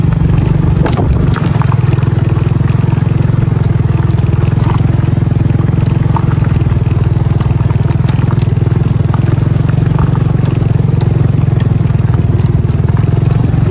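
A motorcycle carrying riders along a road to a cold spring in Cabadbaran City drones steadily and loudly throughout, with rattles and wind buffeting over the engine and no clear talk.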